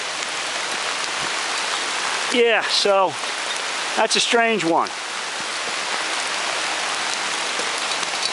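Steady rain patters on surfaces outside a house, a broad, even hiss throughout, while someone briefly speaks over it midway.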